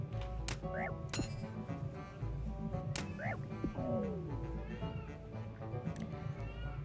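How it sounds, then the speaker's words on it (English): A house cat meows several times in short, rising calls scattered across the stretch, heard close over a steady low background hum with no talking. "the cat is talking to us again"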